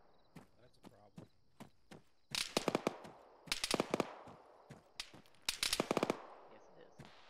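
Bursts of automatic gunfire and single shots crackle through a military video game session, in sharp clustered volleys at close range, with people talking between and over the shooting.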